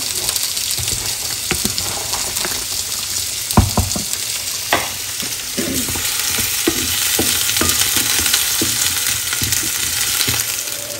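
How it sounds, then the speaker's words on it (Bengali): Five-spice, cinnamon, cardamom, garlic and onion fry in hot oil with a loud, continuous sizzle, broken by occasional clattering taps of stirring. "এখানে পাঁচফোড়ন, দারচিনি, এলাচ, রসুন, পেঁয়াজ ভাজতেছি"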